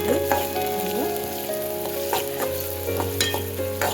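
Onions sizzling in hot oil with cumin seeds in a pan on a gas stove: a loud, continuous fry with stirring scrapes and utensil clicks throughout.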